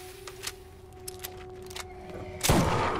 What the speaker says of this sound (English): Let's try out the shotgun.